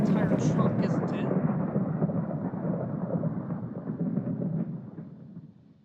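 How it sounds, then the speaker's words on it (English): Lightning TNT from a Minecraft mod detonates with a loud thunderclap that rolls on as a long, rumbling crash and slowly fades. "I think that lightning is the sound of death."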